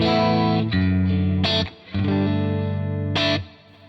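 Electric guitar through a pedalboard with a Lexicon 224 reverb model, playing sustained chords that ring out with a wide reverb tail, bright struck attacks at intervals, loud and close with no talking.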